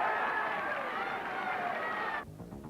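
A stadium crowd applauds and cheers as a runner finishes a men's 5000 m track race at the 1996 Smokefree athletics meet. The roar stays broad and sustained, then drops off sharply near the end.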